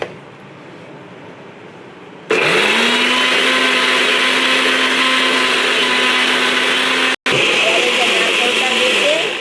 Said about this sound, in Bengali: এবারে আদা লঙ্কা আমি মিক্সিতে ঘুরিয়ে নিচ্ছি।